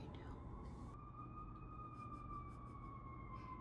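A siren wails in the distance outdoors, its rising and falling tone faint and steady throughout under a quiet background hiss.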